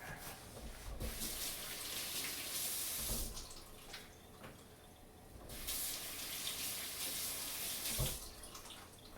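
Tap water runs steadily into a sink while a leek stalk is rinsed of dirt beneath it, the splashing rising and falling in several bursts as the stalk moves through the stream, alone and close.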